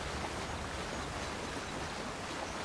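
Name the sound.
waterfall in video game Avowed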